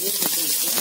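Mustard seeds sputtering in hot oil in a kadai: a steady, bright sizzling hiss with faint crackles, close and continuous through the brief moment.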